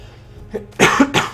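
A couple of short, sharp coughs close up, preceded by a faint breath, then silence.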